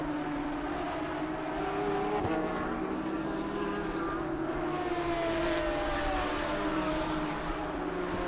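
GT race cars at Road Atlanta during an International GT sprint race, engines roaring steadily at high speed through a dip, with a continuous loud drone and shifting engine tones throughout.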